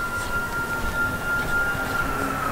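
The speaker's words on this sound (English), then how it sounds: "siren of a fire engine cutting across" A fire engine siren wails faintly in the distance across a town street in Salisbury, North Carolina, holding a thin, steady tone over low background noise.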